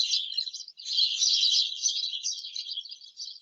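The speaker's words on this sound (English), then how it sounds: "So I'm using the loud sounds of birds." Bright, high-pitched bird chirps run continuously in a dense chorus, loud and close, with no other sounds.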